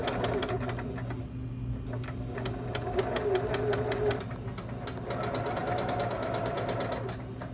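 A sewing machine runs steadily while top-stitching around the upper edge of a fabric bag, its rapid mechanical needle rhythm continuing close and loud throughout, with a brief change in pace midway.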